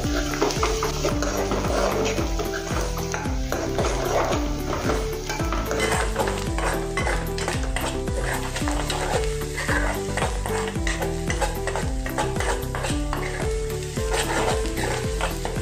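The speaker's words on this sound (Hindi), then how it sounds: "प्याज और हरी मिर्च को अच्छे से भून लेंगे।" Onion and green chilli stir-fried in a pan: a constant close sizzle with rapid, rhythmic spatula scrapes and taps against the metal throughout.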